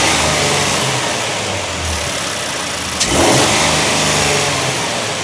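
A Nissan Armada / Patrol Y63 SUV engine fitted with an aFe Power cold air intake revs up loudly with a deep, throaty roar that swells and settles, close by and alone without voices.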